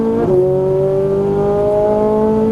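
Ferrari 458 Italia engine at full throttle, a strong steady howl that climbs in pitch, with a quick upshift early on before the note keeps rising, loud and close.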